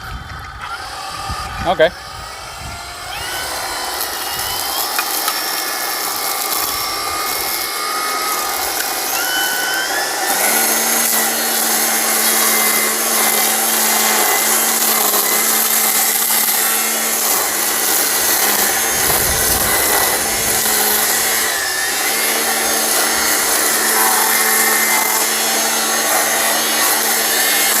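A Toro 60V string trimmer, bumped to feed out more line, whines steadily and loudly for most of the stretch after a few brief knocks and scrapes at the start; a voice speaks once briefly.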